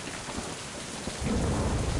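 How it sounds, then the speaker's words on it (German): Steady rain hissing down with a deep rumble of thunder swelling in partway through, from the video game Mind: Path to Thalamus, loud and close with no voices. "Wir machen mal Regen."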